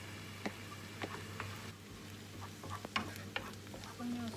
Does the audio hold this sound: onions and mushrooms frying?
yes